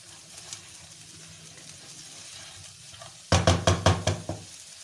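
Egg fried rice ingredients stirred in a pan over a medium flame, a quiet stretch followed by a run of about six sharp, loud knocks of a utensil against the pan near the end.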